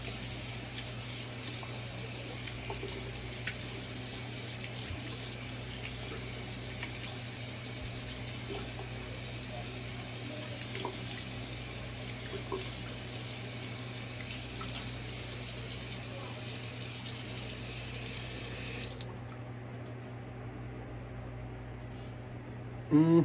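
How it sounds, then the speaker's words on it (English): A bathroom tap runs a steady cold-water rinse for a wet shave, a constant close hiss of flowing water that cuts off near the end, followed by a brief clunk. "All right, cold water rinse."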